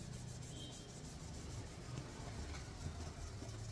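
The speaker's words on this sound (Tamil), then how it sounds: "துணி வச்சு அழிச்சு அழிஞ்சிடும்" A cloth rubs across a board to wipe away ink writing, giving a steady, low, continuous scrubbing that runs unbroken throughout, with no voices.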